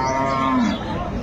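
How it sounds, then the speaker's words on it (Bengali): A cow at a cattle market lets out a single short, loud moo, close by, with a low sliding tone fading after about a second. "এই যে দেখছিলাম এখানে একটি গাভী"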